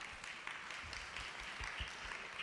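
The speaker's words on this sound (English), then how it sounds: "Round of applause for Pamela." Applause from an audience at a health information panel event, steady clapping at a moderate level with dense overlapping claps sustained throughout.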